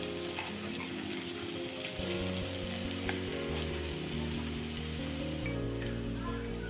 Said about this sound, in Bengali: অপর পিঠটাও আমি এইভাবে ভেজে নিচ্ছি।